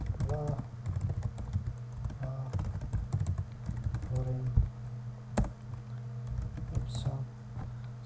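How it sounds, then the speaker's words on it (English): Someone types a new blog post on a computer keyboard in short, fast bursts of close, crisp key clicks, with a few louder taps and faint background hum. "let's type some new post."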